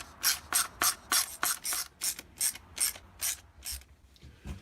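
Chassis brace screws being snugged down on a Team Associated B74.1d 4WD RC buggy, a run of about a dozen evenly spaced bright clicks or scrapes, close and moderately quiet, with no voices.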